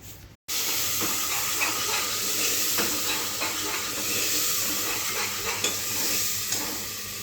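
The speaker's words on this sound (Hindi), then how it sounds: "आज ऐसी छौंक के बना रही हूँ" Steady, loud sizzling of spices hitting hot oil in a pan for a chole tempering, a continuous crackling hiss after a brief silent start.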